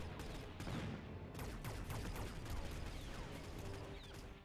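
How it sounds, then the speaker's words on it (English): Missile interceptor turrets fire in rapid, dense bursts during a Mechabellum battle, with crackling shots and impacts layered over a constant roar of combat. "missile interceptor turrets trying their best to intercept some missiles"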